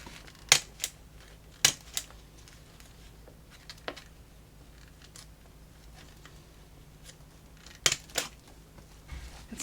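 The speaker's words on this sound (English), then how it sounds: "I'm going to staple from the back so it looks different on the front" A stapler punching through a stacked paper belly band craft project, heard as sharp, close, isolated clacks: a pair near the start, a few scattered softer ones, then another quick pair near the end.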